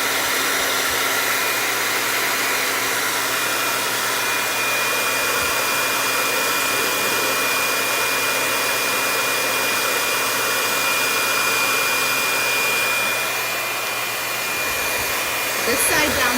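A high-power hair dryer runs close and loud for the whole stretch, a steady whooshing blower roar that dips briefly near the end.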